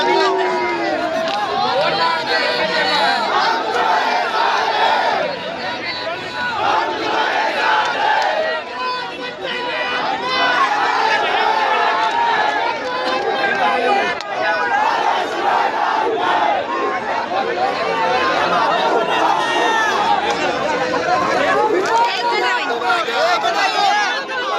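BJP workers celebrating a ward election victory, a loud, dense crowd of shouting and chanting voices that keeps going without a break, with excited babble and cheers throughout.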